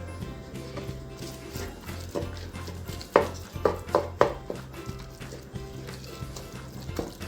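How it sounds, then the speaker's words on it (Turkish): Onions sauté in a pot on the stove while a utensil stirs them, giving a few sharp clinks and scrapes over a low steady hum. "Gördüğünüz gibi soğanlarımızı kavuruyoruz."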